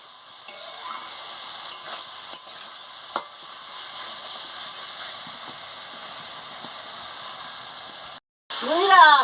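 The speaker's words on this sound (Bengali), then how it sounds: "নুনটা দিয়ে ভালো করে কষিয়ে নিচ্ছি" Rohu fish curry masala is stirred and sautéed with salt in a pan, a steady close sizzle with occasional spatula scrapes, briefly cut off near the end before a louder burst.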